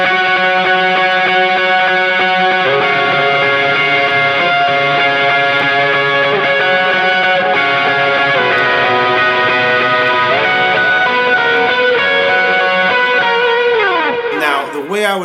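An electric guitar plays higher chord voicings through delay for a worship song. The loud, shimmering chords change several times, the echoes trail between them, and a quick slide comes near the end.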